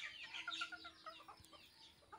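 Backyard farm chickens cluck in quick repeated bursts on an afternoon as they gather to be fed, alongside ducks; the calls sound fairly near but quiet, with no talk over them.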